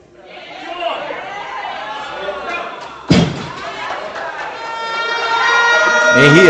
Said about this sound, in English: Crowd's going crazy to get Matthew fired up for this